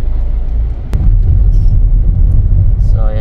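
Truck loaded with rocks driving close by, a loud low rumbling engine drone with a sharp knock near the start and a voice briefly speaking toward the end.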